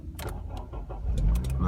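A Honda Civic FN2 Type-R is started with its push start button: the starter cranks briefly and the engine catches into a loud idle, with a few clicks and interior noises around it.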